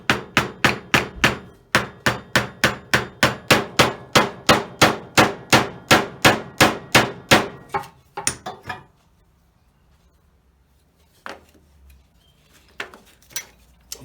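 A hammer taps a bent stud through on a vise, about twenty sharp metallic blows in a steady, quick rhythm, close and loud, followed by a few scattered knocks and handling noises.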